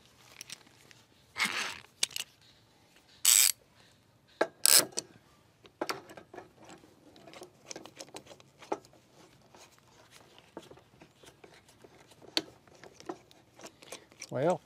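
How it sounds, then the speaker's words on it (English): A clamp being tightened onto a piece of wood while building a carpenter bee trap: scattered close clicks, ratcheting and knocks with sharp bursts, mixed with low talk throughout. "I'm going to use my clamp here. Clamp me a piece of wood here."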